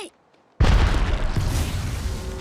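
Grenade explosion in the mobile battle game Apex Legends Mobile: a sudden loud boom after a near-silent moment, followed by a sustained roaring blast and rumbling debris that slowly fades.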